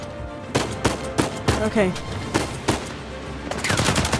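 Gunfire in Uncharted 4 crackles in several quick bursts and single shots amid combat, moderately close, while a person briefly speaks over it.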